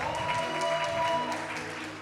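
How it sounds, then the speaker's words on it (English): A crowd claps steadily at a celebration event, a dense wash of applause holding throughout with a faint tone underneath. "I think that deserves a round of applause."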